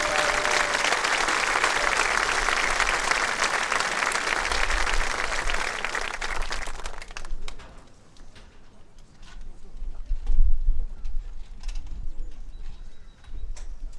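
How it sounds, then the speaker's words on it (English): A crowd at the 2024 Triway High School graduation ceremony gives a dense, sustained round of applause for the teachers, which fades after about seven seconds into a quieter space where doves coo softly. "Please join me in a round of applause as we celebrate our outstanding Triway."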